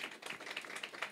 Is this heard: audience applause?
yes